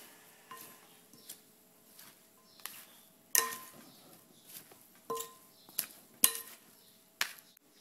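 Tabbouleh salad is tossed with lemon juice, producing intermittent clicks and scrapes of utensils against the bowl, separated by brief pauses, against a quiet background.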